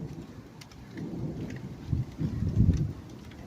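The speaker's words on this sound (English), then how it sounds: "it is kind of raining again" Rain falls steadily outdoors with soft patter and rustle, joined by low rumbling swells like distant thunder that build toward the end, no voices.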